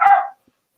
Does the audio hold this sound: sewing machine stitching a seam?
no